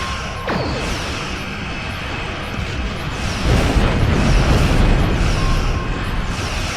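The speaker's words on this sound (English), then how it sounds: "there goes the emission torpedo" An emission-seeking torpedo explodes in the space combat game Star Trek Online, a sharp swooping impact followed by a louder rumbling blast and crackling debris amid dense battle noise, with no voices.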